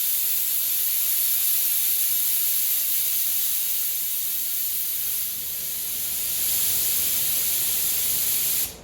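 An air spray gun set to 25 psi paints winch mounting parts for a 2021 Ram ProMaster, giving a steady loud hissing spray that briefly dips and then resumes before cutting off.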